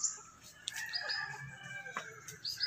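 Gamecock chickens and their chicks on a Filipino backyard farm, with clucking and brief crowing calls recurring close by over a steady bed of chirps and farmyard ambience, no voices.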